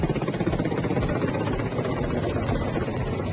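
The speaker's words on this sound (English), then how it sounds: "Russian Ka-52 attack helicopters entertain taking a sharp turn above the lake at Al-Kevsk" A Russian Ka-52 attack helicopter banks sharply above a lake at Al-Kevsk, its loud rotor and engine roar filling the air with a steady, throbbing beat close overhead.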